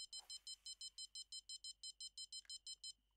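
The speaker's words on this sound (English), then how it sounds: "Between the strong beep of my bobber." A rapid electronic beeping repeats steadily, about five high-pitched pulses per second, faint and continuous: a bobber bite alert in the video game Fishing Planet.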